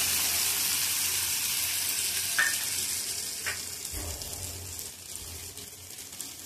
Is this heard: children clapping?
no